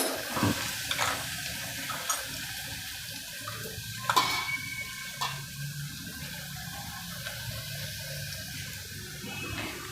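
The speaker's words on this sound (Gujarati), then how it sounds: "પહેલાં આપણે લસણને સાતડી લેવાનું" Garlic sautés in a pan with a soft, steady, low sizzle, broken by a few light utensil clicks and one sharper clatter.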